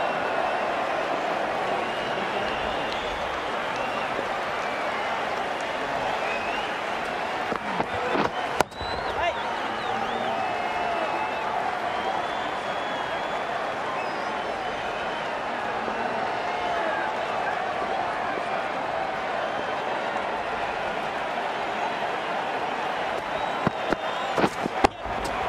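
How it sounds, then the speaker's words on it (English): A stadium crowd in the Ashes Cricket video game keeps up a steady broad roar for about twenty-five seconds, with a few sharp knocks near the middle and end. "The crowd on their feet."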